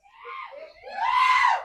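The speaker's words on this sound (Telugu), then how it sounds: "చూసారా మీరు ఎంత గట్టిగా అరుస్తున్నారో" An audience at a movie trailer launch event screams loudly in a short rising burst that swells toward the end.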